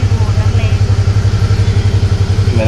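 A motorcycle engine idles close by with a steady, rapid, pulsing putter, loud throughout, while people talk over it.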